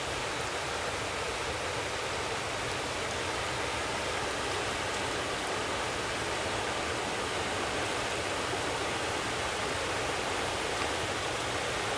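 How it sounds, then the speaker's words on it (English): Water rushes over a weir on the River Calder in a continuous, even roar, loud and unbroken for the whole stretch with no voices. "I just hope you can hear me with the weir in the background."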